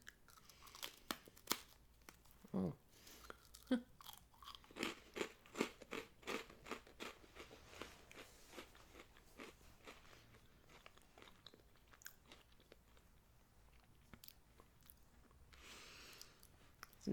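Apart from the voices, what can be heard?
crunching and chewing toasted meringue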